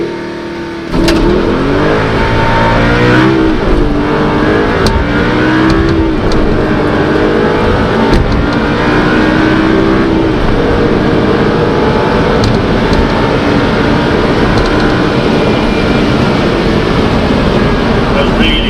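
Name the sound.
Audi R8 V8 FSI revving and accelerating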